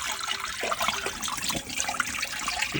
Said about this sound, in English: Get that flush through.